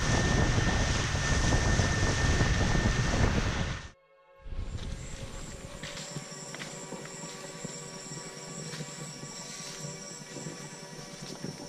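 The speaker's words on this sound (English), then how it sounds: "speeding in a powered canoe with the wind in your hair" A powered canoe speeds along the Amazon River near the equator, its engine giving a steady, loud drone with wind rush; the noise cuts out briefly, then returns as a continuous motor hum with rushing air.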